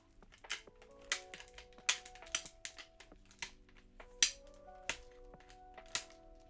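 Sharp plastic clicks, taps and clacks as the stock is worked loose from an airsoft PP19 Bizon submachine gun, a dozen irregular close knocks in a quiet room with faint tonal hum.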